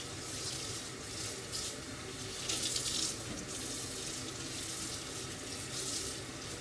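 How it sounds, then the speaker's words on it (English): Lukewarm tap water runs steadily into a sink while silicone baking mats are rinsed under it, a continuous close splashing hiss with slight surges and no speech. "I use just lukewarm water to wash the mats and the cookie cutters"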